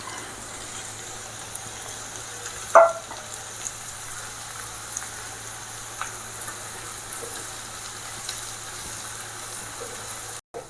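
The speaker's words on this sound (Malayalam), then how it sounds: "മല്ലി മുളക് രണ്ടും ഇട്ട് കൊടുക്കാം." Quiet, steady sizzling of coriander and chillies in hot oil for a fish curry, with a single sharp clink of a utensil early on and faint stirring scrapes.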